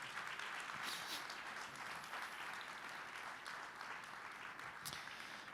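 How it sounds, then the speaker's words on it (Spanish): A church congregation claps in praise during a service, a continuous, fairly distant wash of applause holding steady for several seconds with no speech over it. "Fuerte ese aplauso de alabanza."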